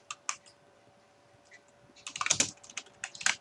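Keys clack on a computer keyboard in a soft, close burst of typing: a few scattered taps first, then a quicker run of clicks.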